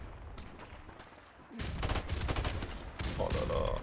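Gunfire in Modern Warfare Remastered multiplayer, a rapid stutter of close automatic shots after a quieter opening, continuing in loud bursts with a faint voice underneath.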